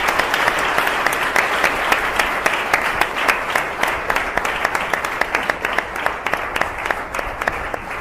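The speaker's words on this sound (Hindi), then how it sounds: "एक जोरदार ताली प्रभु यीशु के लिए।" A Hindi-speaking church congregation in Mumbai claps loudly and steadily for several seconds, a full room of hands mixing into continuous applause with sharper individual claps poking through.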